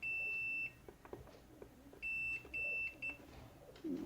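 Beeps from a multimeter continuity test on a smartphone-controlled watering system circuit: sharp high electronic tones, one long sustained beep followed by a few shorter ones, close and clear over a quiet room.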